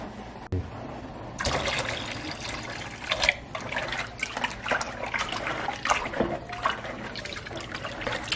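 White vinegar pours in a steady trickle into glass jars, a close, gurgling liquid stream with small splashes and clinks that starts after a brief quiet pause and continues to the end.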